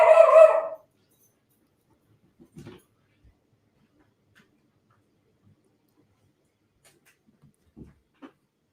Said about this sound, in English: Sorry for the barking. My dog is obviously very excited